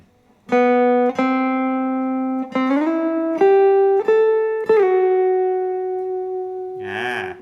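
Slow acoustic-style guitar intro phrase of single plucked notes, several bent or slid between pitches, each ringing clearly before the next, closing with a brief scratchy strum.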